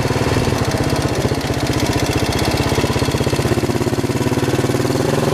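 A motorbike engine whose revs hang after carb cleaning runs steadily and close, a loud rapid mechanical chug with a rough, even throb that stays high without dropping back.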